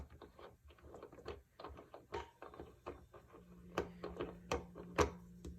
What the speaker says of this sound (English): We will unscrew the ball top.